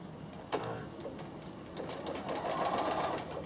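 A Bernina sewing machine stitches a small zigzag on knit fabric, its steady mechanical whir starting sharply, then holding for about three seconds and rising slightly toward the end, close and moderately loud with no talk.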